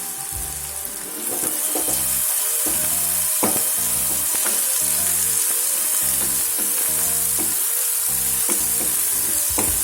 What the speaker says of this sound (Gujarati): ડુંગળીને આપણે 1 મિનિટ માટે શેકી લઈશું।